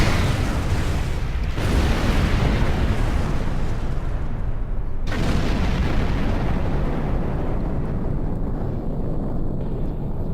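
A starship comes under attack in Star Trek Online, with loud, broadband explosive roars and rumbling blasts filling the scene, two sharp hits breaking the rumble before it slowly fades, no talk.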